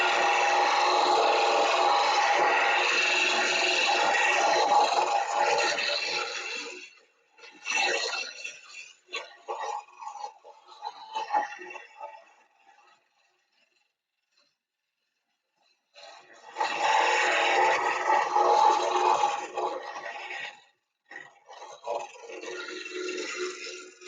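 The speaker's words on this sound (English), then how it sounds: "I'm going to go through and clean it up with one of these flathead chisels, something that's straight across here" A spinning wood lathe with a flat chisel held against the turning piece, giving loud, harsh scraping and rasping for several seconds, then broken scratchy cuts, a long silent pause, and another sustained loud scraping burst.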